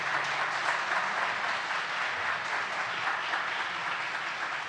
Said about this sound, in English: Please join me in a round of applause for our panel.